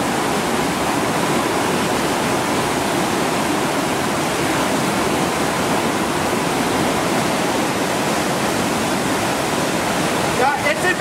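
Flood water from the 2017 Goslar flood rushes through the town streets toward the market square, a loud, continuous roaring torrent with no break, close and dense throughout.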